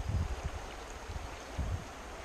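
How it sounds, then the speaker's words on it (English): High-running river water on Pine Creek in May rushes steadily as a broad, constant wash, with faint low thumps and gusts underneath and no talking. "This is a river. Sure isn't a creek."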